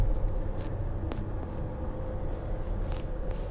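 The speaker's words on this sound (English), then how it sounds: "that V6 turbo diesel puts out plenty of power to move this thing" A Mercedes-Benz Sprinter 2500 cargo van with a V6 turbo diesel drives along tight back roads, its low engine hum and road rumble steady from inside the cabin, with a few faint knocks.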